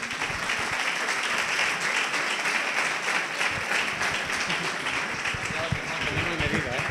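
Audience applause fills the room at a PechaKucha Night event in Salamanca, dense continuous clapping throughout, loud and close, with voices mixed in.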